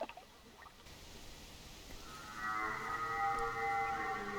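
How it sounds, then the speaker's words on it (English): A red deer stag calls in the hunting game theHunter Classic, a faint, distant tonal moan that rises out of quiet ambience partway through and holds for a couple of seconds. "A red deer stag call."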